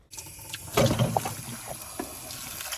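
Water poured into a pan holding apples while making an apple lattice and chausson aux pommes; a short splashing pour swells and fades over about a second against quiet kitchen background.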